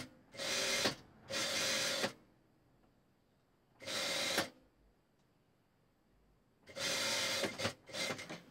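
Sewing machine stitching the hem of a knit chemise dress, four separate bursts of fast mechanical whirring with quiet pauses between, fairly close and with no talking.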